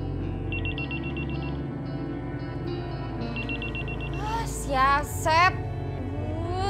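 A mobile phone rings with repeated electronic trill bursts in a household scene, and a voice joins near the end.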